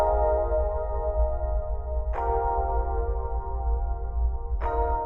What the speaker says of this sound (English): It's from Keystone Classic, which is a free plugin of just keys and keyboards and pianos